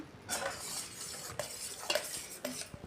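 A peanut mixture stirred into hot jaggery syrup in a pot off the heat, heard as close, soft scraping with a few sharp clinks of a spoon against metal.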